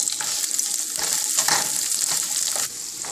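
Chopped onion hitting hot oil with popping cumin seeds in a pan for a Punjabi lauki bharta, a bright steady sizzle with stirring scrapes, close and loud, no talking.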